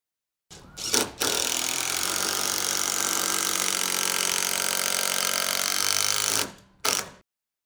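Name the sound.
fastener driven flush into wooden shed trim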